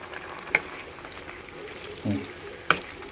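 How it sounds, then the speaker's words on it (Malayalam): Half a kilo of marinated goat liver frying over medium flame in a pan, a low sizzle with a few sharp stirring clinks and a brief scrape, close up with no talk. "ലിവർ മാരിനേറ്റ് ചെയ്തിട്ട് ഇട്ട് നന്നായിട്ടൊന്ന് ഇളക്കി കൊടുക്കും"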